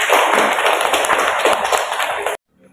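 An audience at a school panel discussion applauds a speaker with dense, steady clapping that stops abruptly.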